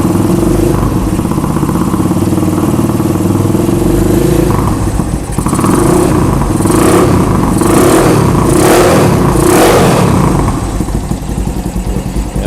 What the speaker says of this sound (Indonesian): Suara knalpotnya tes.